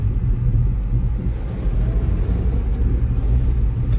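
A car driving along a quiet village road on the way to Tajpur, heard as a steady low engine and tyre rumble that stays loud and even throughout, with no voices.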